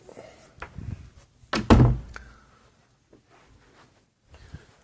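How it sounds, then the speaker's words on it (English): A door swung shut in a small acoustically treated studio room, giving one solid, close thud midway with lighter knocks and rattles before it, then near silence. "And here is, close the door."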